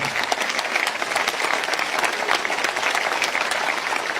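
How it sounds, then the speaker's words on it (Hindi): A crowd at a political rally claps loudly and continuously, dense steady applause filling the whole stretch without pause. "पाकिस्तानियों के लिए ताली।"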